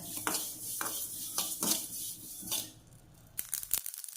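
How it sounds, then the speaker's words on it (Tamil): White sesame seeds roasting in a pan, scraped and stirred with a utensil in a run of scratchy, rattling strokes at close range, with no talking. "இதை இப்போ வெள்ளை எள்ளை தட்டி எள்ளை வறுத்துக்கிறேன்"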